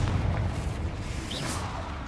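A Confringo explosion spell cast in the Hogwarts Legacy video game gives a low, rumbling blast that stays fairly quiet and blends into steady broadband game noise.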